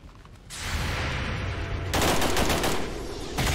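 Sustained, dense suppression gunfire in XCOM 2 roars in at about half a second and grows louder and harsher midway, continuing as an unbroken rattling barrage with no talk.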